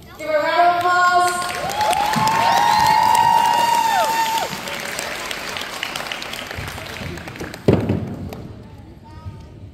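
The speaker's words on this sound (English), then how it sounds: "Give a round of applause." Audience at a high school Hmong Night performance applauds and cheers, a loud sustained crowd roar with clapping that swells over the first four seconds, mixed with whistles and shouts, then tapers with a thump near the end.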